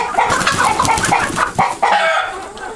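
A flock of chickens just let out of their coop cluck and squawk loudly and close by, overlapping calls crowding together throughout with no talking.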